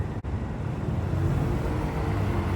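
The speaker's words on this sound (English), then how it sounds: "Right, the engine's running." A police vehicle's engine idles with a steady low rumble close by, continuous and unbroken after a brief dip at the start.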